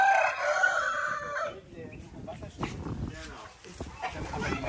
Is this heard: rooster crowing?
yes